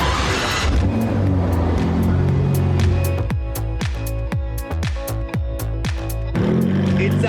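A Ferrari and other cars rolling into a garage, engines loud and close with revving swells and a run of rapid throttle blips, echoing in the enclosed space.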